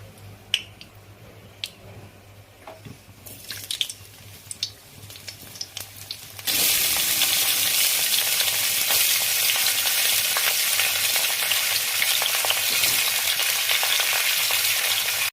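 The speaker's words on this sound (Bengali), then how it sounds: "এরপরে কড়াইতে তেল দিচ্ছি এগুলো ভেজে নেব" Vegetables frying in oil in a wok, heard close: a few soft clinks and handling noises at first, then a sudden loud, steady sizzle that continues without a break to the end.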